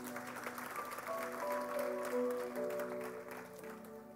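A church congregation claps and cheers in praise, a short burst of applause mixed with voices and sung tones, moderately faint and swelling in the middle before easing off.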